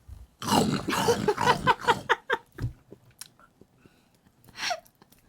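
A voice imitates noisy eating, producing a run of wet, smacking chewing and lip-slapping sounds close to the microphone, tapering into quieter clicks and a final short vocal squeak.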